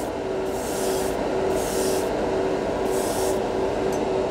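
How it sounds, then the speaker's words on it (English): Grex Tritium TG3 airbrush spraying acrylic paint, with four short hissing bursts of spray over a steady compressor hum, close and fairly loud. "Let's see how it sprays the acrylic over here."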